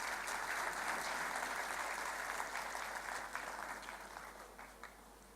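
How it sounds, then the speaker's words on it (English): Parents at a middle school annual day at Sindhi High School in Hebbal receive a round of applause, with soft, distant clapping from a large audience that gradually fades toward the end. "parents, you deserve a huge round of applause"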